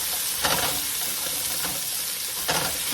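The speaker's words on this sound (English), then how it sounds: "So now we're gonna stir fry" Food stir-frying in a hot pan gives a loud, steady sizzle close by, with brief surges of hiss and scraping as the pieces are stirred, and no voices.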